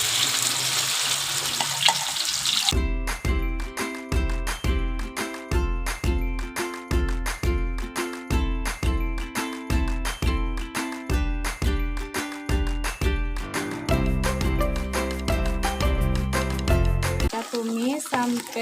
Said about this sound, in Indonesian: Saatnya kita tumis bumbunya.